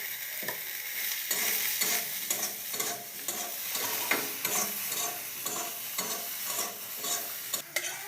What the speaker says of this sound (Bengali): এখন সয়াবিনগুলি ভাজা হচ্ছে